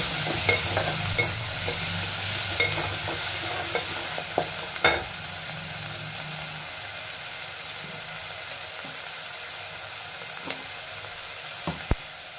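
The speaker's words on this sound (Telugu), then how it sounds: "ఇప్పుడు ఒక టమాటో వేసుకొని టమాటాను కూడా బాగా దగ్గరికి అయ్యేటట్లు ఉంచుకోవాలి." Onions and tomato fry in a pan for egg curry, a steady sizzling hiss with a few sharp scrapes and taps of a spatula stirring, close up and without speech.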